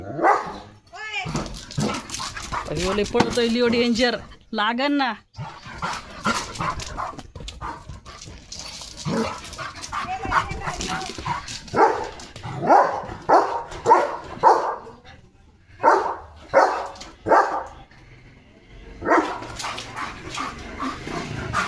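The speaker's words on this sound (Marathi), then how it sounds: "त्याला भुंकतोय तो" A German Shepherd barks repeatedly in short bursts, fairly close, mixed with excited people talking over and between the barks.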